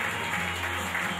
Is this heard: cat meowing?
no